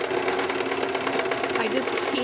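A sewing machine with a zipper foot stitches a slipcover steadily in a fast, even mechanical chatter that runs without pause throughout.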